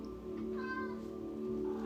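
A domestic cat named in context meows a single drawn-out call at close range, steady and clear against a quiet indoor background with no talking over it.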